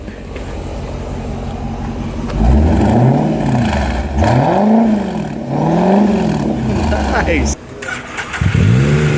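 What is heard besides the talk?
Ferrari 488 engine revving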